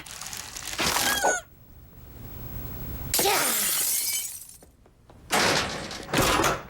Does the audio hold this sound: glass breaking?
yes